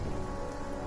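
Thunderstorm in the video game Genshin Impact: a dense, steady roar of rain and rumbling thunder, loud and continuous with no talking.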